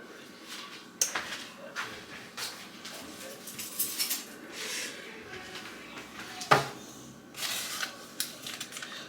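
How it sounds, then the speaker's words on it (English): A butter knife taps and scrapes as it chops butter on paper, irregular light cuts and rustles close by. "So I'm chopping it up right on the paper with a butter knife."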